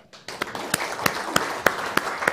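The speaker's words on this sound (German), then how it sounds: "einen großen Applaus jetzt für Dietrich und Raab" Audience applause for a cabaret duo on stage, starting abruptly after a short silence and continuing as a steady wash of clapping with a few sharper, louder claps standing out at a regular beat.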